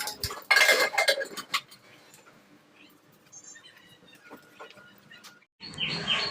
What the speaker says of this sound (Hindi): मैं कुकर में दाल चढ़ा रही हूँ, ताकि मेरा जो दाल है ना जल्दी सीज जाए